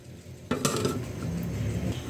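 A lid is set back onto a cooking pan with a single clear metallic clink, followed by a soft, steady sizzle or simmer from the pan.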